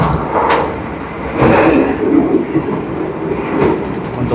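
Steady rumble and rattle inside a moving Indonesian passenger train, heard from the front single seat, with occasional clanks and rushing noise, loud and continuous.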